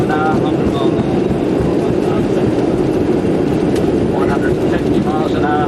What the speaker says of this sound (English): All 4 engines are up. There the readings are picking in now, and the speed is building fairly rapidly.